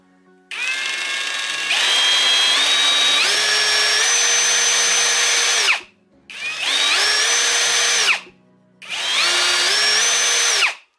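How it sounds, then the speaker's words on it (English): A Ferrex Pro 40V brushless cordless combi drill whirs loudly in three bursts, its motor pitch stepping up between speeds before each stop. "Sounds like a pretty powerful drill."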